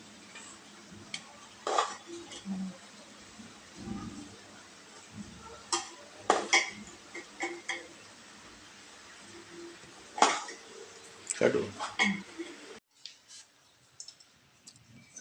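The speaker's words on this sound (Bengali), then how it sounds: "এই বিরিয়ানিটা আমি সার্ভ করে দিচ্ছি" Metal utensils click and clink against a plate and pot while homemade biryani is served, sharp scattered taps at uneven intervals over a quiet kitchen background.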